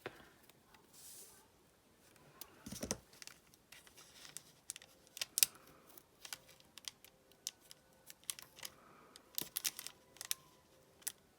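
Adhesive tape is torn and pressed onto a handmade paper shaker card, making faint, close rips, crinkles and taps scattered irregularly across a quiet room.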